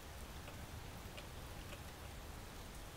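Rain from the video game Space Engineers hisses in a steady, even wash of droplets, soft and continuous with no thunder and no voices.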